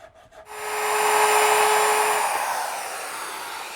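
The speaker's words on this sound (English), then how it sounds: "Now I want to remove the excess of this piece that comes through the case because I don't want to see that from the side." Power saw trimming excess wood flush from a wooden clock case, one continuous loud cut with a steady whine that begins abruptly and gradually eases off toward the end.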